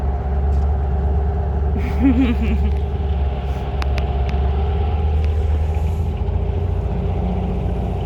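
A poorly running project vehicle from a redneck build revs at full throttle, its engine a loud, steady, droning rumble that holds throughout with little change.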